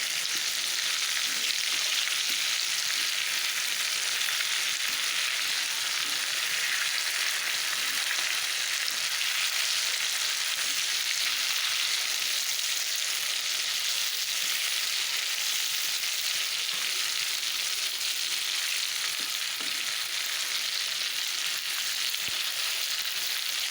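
Chicken pieces fry in a pan with a steady, even sizzle that holds without pause for over twenty seconds, close and unbroken, with no talking.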